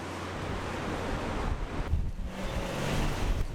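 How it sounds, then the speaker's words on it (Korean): Strong Antarctic wind buffets the microphone while rough ocean surf surges and breaks, a continuous roaring wash with gusty swells and no speech. "바람을 삼킨 파도가 거칠어지고"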